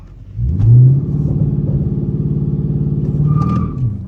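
A Dodge Charger R/T cranks and its engine turns over in a start attempt, a loud, close, low rhythmic churning rumble that runs for a few seconds before dropping away.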